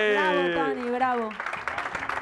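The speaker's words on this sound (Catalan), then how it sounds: "Molt bé, un aplaudiment." A sung or drawn-out voice ends and gives way to a studio audience breaking into applause, a lively scattered clapping that rises in the second half, with talk nearby.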